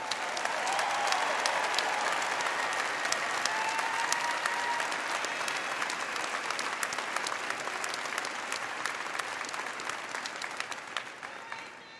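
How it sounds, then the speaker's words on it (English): Sustained, dense applause from a large commencement audience honoring graduates at Saint Louis University's 2022 ceremony, steady and full before gradually thinning near the end. "Let's give another round of applause to all of our graduates."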